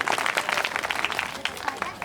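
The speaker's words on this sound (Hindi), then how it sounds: "साथियों, एक बार जोरदार तालियां बजाकर भाई देवनारायण कुशवाहा जी के लिए।" Hand clapping from an audience at a village gathering in Kabirpur, a fast, dense patter of many hands, moderately close, briefly swelling then thinning over about two seconds.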